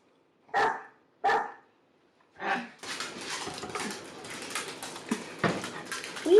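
A puppy barks three sharp times at close range with short pauses between, then a busier stretch of background noise and clatter follows.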